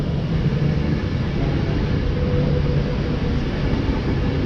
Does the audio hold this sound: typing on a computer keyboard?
no